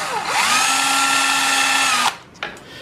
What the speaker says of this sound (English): So we're going to go ahead and drill this out.